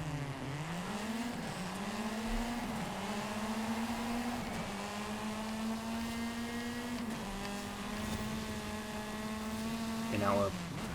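Ford Escort Cosworth rally car racing in Forza Horizon 5, its engine droning steadily with rising and shifting pitch through gear changes, loud and continuous, with a brief burst near the end.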